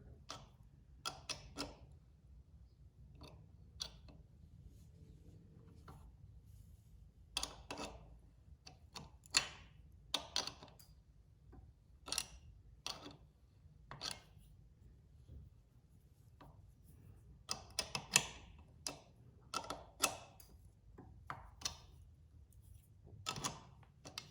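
Pedal being threaded onto a RadRover 6 Plus e-bike and tightened with a 15mm wrench gives close, sharp metallic clicks at irregular intervals, some in quick clusters, over a quiet background.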